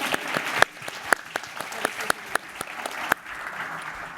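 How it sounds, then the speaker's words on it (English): Scattered applause from a masterclass audience at a forced-perspective photography session, a modest group clapping with uneven, distinct individual claps that gradually thin out. "Round of applause for the volunteers."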